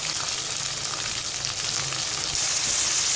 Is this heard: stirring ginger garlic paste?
yes